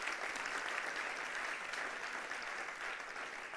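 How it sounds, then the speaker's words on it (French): A church congregation applauds in a sustained, even wash of many clapping hands, fairly soft and distant-sounding, with no voices over it. "Est-ce qu'on peut les applaudir bien fort?"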